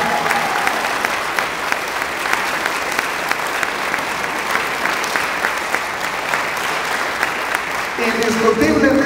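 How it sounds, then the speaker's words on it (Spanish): Sustained, steady applause from an audience at a recognition ceremony honoring a woman's work, dense clapping held at an even level throughout with no talk, swelling slightly at the very end. "Les vamos a dar con el aplauso, ahí sí, con todas las fuerzas."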